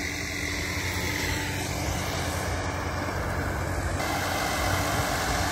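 A tractor engine fitted with a GS turbo runs steadily on trial, giving a loud, continuous close-up drone with a faint turbo whine that holds at an even level, with no speech.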